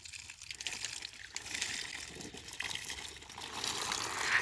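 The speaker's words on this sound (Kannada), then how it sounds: "ಇವಾಗ ನಿಧಾನವಾಗಿ ನೀರನ್ನು ಹಾಕ್ತಾ ಇದ್ದೀವಿ ನೋಡಿ" Water is poured slowly onto areca nut seedling pots, making a soft, close trickling and splashing that grows gradually fuller.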